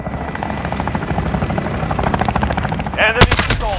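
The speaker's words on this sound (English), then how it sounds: "Enemy chopper gunner on approach." An enemy chopper gunner helicopter in Call of Duty Modern Warfare, a loud, steady rotor thrum with a sharp burst of gunfire near the end.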